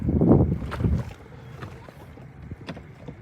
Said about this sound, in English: They said all they're hearing is the wind noise.